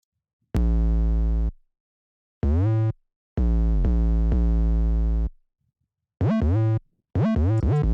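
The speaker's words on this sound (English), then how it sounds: "that had lots of distortion on it, because that's the type of 808 that is used in drill beats" Heavy, distorted 808 bass notes play alone in a stop-start UK drill pattern, some sliding in pitch, separated by short silences.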